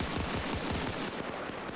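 Rapid gunfire from bunkers in a trench warfare video game crackles in dense, fast bursts, loud and continuous with a heavy low rumble and no voices.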